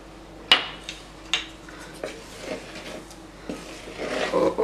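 A whisk clinks against a metal bowl while baking powder is worked into cake batter, giving a series of sharp metallic taps at irregular intervals, followed by faster, busier scraping and clattering toward the end.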